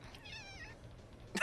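A single cat meows softly, a short wavering cry, followed by a brief burst of sharper noise at the end.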